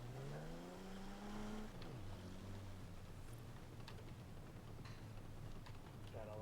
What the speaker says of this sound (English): Yeah, that's a Gallardo sounding engine.